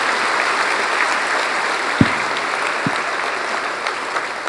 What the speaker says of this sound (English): giving a deserving round of applause to our 2012 graduates